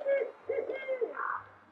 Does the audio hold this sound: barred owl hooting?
yes